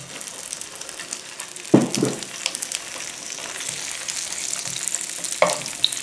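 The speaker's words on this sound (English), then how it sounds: "we're going to take our wings here and we're going to fry them in the pan" Vegetarian wings searing in a hot pan, a constant close sizzle broken by two sharp bursts as pieces are moved or tossed, no talking.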